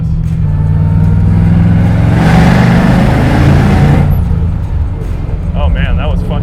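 A supercharged 1970 Camaro V8 revs and accelerates hard through a curve, its deep engine roar loud and close from inside the car, swelling in a rising surge before easing back, with a voice speaking over it.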